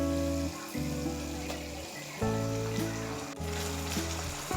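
Green chili and ginger paste frying in a pan with browned onion paste, giving a continuous hissing sizzle beneath louder background music with held tones.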